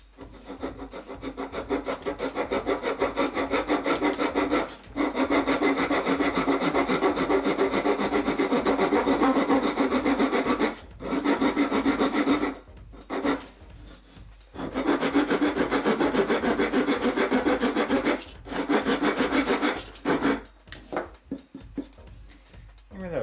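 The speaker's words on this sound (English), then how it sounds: "Just after a little bit of filing, I have a groove started." A hand file cutting a groove into wood for a hammer project, with long runs of steady rasping strokes up close and a few short pauses between them.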